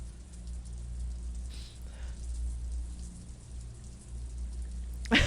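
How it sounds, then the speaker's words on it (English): Rain in the video game Tales of the Black Forest, a soft continuous patter with a low steady hum underneath and no speech. "Curse the rain, Sensi."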